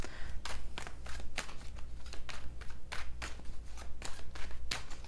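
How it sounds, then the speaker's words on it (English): Tarot cards are shuffled briskly by hand, a steady run of crisp riffling slaps and flutters repeating close up with no talking. "Let me go ahead and give them a couple shuffles."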